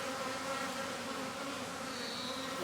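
A recently caught swarm of honeybees in a backyard hive, a dense continuous buzzing hum heard close and steady throughout, with no voices.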